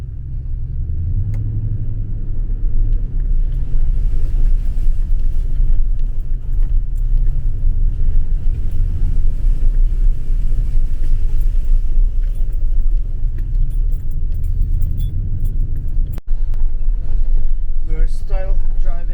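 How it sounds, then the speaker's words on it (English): A car creeps slowly along a wet, waterlogged dirt road toward a cabin, giving a steady low engine rumble and tyre noise that stay loud and close throughout, with a faint clatter near the end. "We're still driving in"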